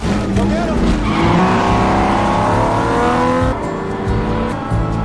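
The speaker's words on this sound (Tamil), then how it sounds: "ஷெல்பி திரும்பவும் காரை ஸ்டார்ட் பண்ணி ட்ராக்குள்ள எடுத்துட்டு போறாரு" A race car from Ford v Ferrari is started and driven back onto the track, its loud engine roaring and revving continuously up close, with tire noise and film sound mixed in.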